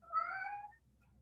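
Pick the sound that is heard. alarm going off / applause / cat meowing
cat meowing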